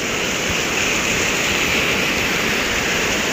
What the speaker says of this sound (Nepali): ल हेर्नुहोस् त कस्तो पानी परेको है